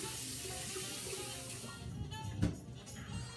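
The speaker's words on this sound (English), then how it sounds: "Okay, quick rinse." Tap water runs steadily while a razor is rinsed under it at a bathroom sink, with a close, continuous rushing splash and a brief knock near the end.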